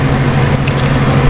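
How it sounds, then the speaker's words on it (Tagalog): Water is poured from a can into a cooking pot while making rice noodles (bihon), a steady, loud, continuous rushing splash with no talk over it. "Lagyan natin ng tubig na galing dito sa can."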